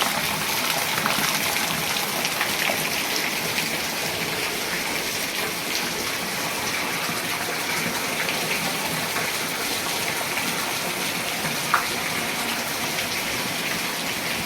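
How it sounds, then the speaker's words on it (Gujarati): Heavy rain pours steadily onto surfaces around a house, a dense, continuous hiss that stays loud and unbroken, with no voices. "વરસાદ પડે જોરદાર."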